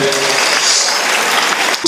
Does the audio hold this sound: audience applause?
yes